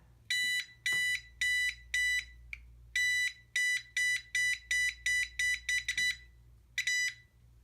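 A voltage tester held against a live circuit gives a rapid series of loud, shrill beeps in irregular bursts, some spaced and some clustered, with quiet gaps between them.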